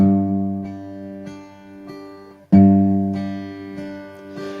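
Fingerpicked acoustic guitar pattern with accented thumb bass notes, played as a fingerpicking exercise; steady plucked notes ring close and clear with a strong accent near the middle, no talking.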